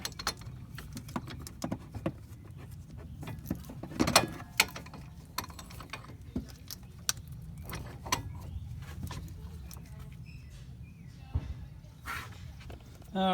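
A piston compression tool, with a big C-clamp as the alternative, pushes a brake caliper piston back on a 2005 Ford Escape Hybrid front brake job, giving close mechanical clicks, ratcheting and scraping taps in irregular bursts amid shuffling.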